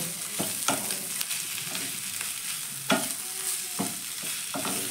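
Coriander leaves are stirred into a chicken curry sizzling in a pan. A steady frying hiss runs throughout, with a few sharp spoon scrapes and knocks against the pan, close up and with no speech.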